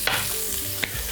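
Thick Napa cabbage stalks frying in a pan, a steady close sizzle with two sharp spatula scrapes, brief and without talk.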